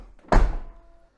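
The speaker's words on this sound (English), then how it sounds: "ready to close the door." A single solid thunk as the door of a BMW 535i E28 Alpina under restoration with newly fitted door seals is shut, a short close-up slam with a brief ringing decay and no voices.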